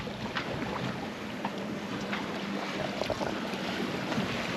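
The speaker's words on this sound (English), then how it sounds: "We're going like dead downwind. We've got just the head sail up." A sailboat runs dead downwind under just its headsail on a Caribbean passage from Antigua to Nevis, with a steady, unbroken rush of wind and water washing past the hull and no voices.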